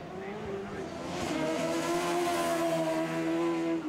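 Racing cars at the Oliver's Mount circuit in Scarborough roar round the hairpin and accelerate up the hill, engines rising in a loud, sustained wail that swells toward the end with a hint of tire noise.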